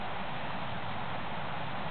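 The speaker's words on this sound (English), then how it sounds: "This is the sound of the waves at Awera Beach" Ocean waves washing onto Awera Beach make a steady, soft broadband rush with no distinct breaks, fairly faint and continuous throughout.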